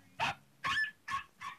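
A person imitating a dog barking with four short, yappy, bark-like bursts spaced evenly apart, close and fairly loud, like a small dog.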